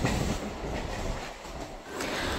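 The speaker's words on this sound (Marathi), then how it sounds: "मला खूप जास्त आवडतं लोकल ट्रेनने प्रवास करायला मुंबईमध्ये" A Mumbai local train rolls along with a loud, continuous rumble and rattle of carriages, the wheel noise swelling and easing slightly, heard close up from on board with no talking.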